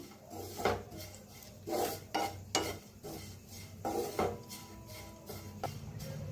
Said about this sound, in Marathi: छान असं खोबरं भाजायला लागलेलं आहे